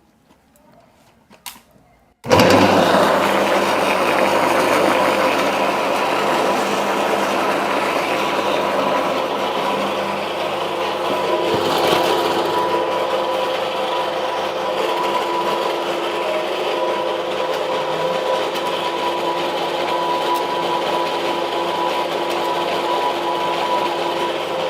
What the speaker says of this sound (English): We mix everything and then we pass it through the machine.